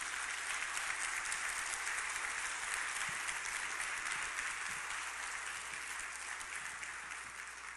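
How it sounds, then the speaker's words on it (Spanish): A church congregation applauds in a steady wash of hand clapping that holds for several seconds and fades slightly toward the end, heard from a distance with no talking. "denle un aplauso al Señor"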